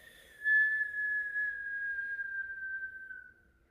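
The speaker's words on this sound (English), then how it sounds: "We whistle with an inhale through the mouth." A single long whistled inhale through rounded lips during Kundalini yoga breathing, a clear steady tone sliding gently lower in pitch over about three seconds, close and alone.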